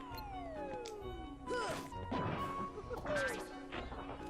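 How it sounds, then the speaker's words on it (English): In Kingdom Hearts, nuts are whacked back at Tigger's giant pot in a Hundred Acre Wood minigame, giving two sharp shattering crashes with bright ringing debris over steady game music. "Whack the nuts back at the pot to shatter it."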